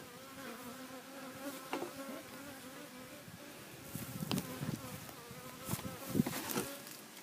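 Bees buzz steadily at an open beehive during a bottom board check, a close, continuous droning hum with a few louder passes of individual bees near the end.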